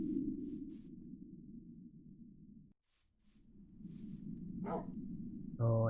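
In The Lost Kingdom video game, a dog gives two short, sharp barks near the end, following a stretch of low rumbling ambience broken by a brief silent gap; no one speaks.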